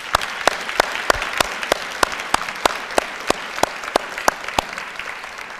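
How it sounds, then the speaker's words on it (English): A crowd of students and guests at a university foundation scholarship reception applauds the donors, a steady round of clapping with sharp, regularly spaced claps standing out above the general patter. "Let's give them a round of applause one more time"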